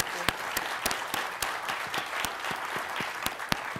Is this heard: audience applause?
yes